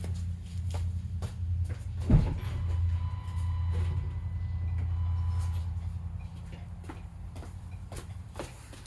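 A 2021 Ford Bronco's door opens with a single sharp click and thunk near the middle, over a steady low idling hum that continues throughout.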